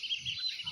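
Ducklings on a farm, moving about while being fed grain and rice husk, give a brief burst of continuous high-pitched peeping with a few soft low thumps underneath.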